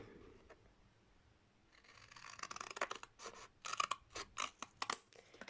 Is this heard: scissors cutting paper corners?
yes